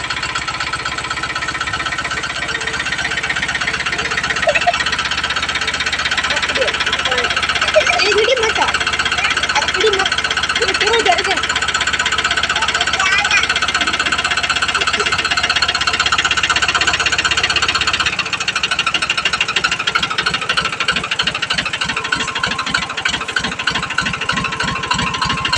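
A farm tractor's engine runs close by with a steady, throbbing mechanical drone that shifts to a harsher, choppier beat near the end. Voices talk intermittently over it.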